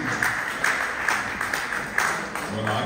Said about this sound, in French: on les applaudit, nos partenaires du Brésil.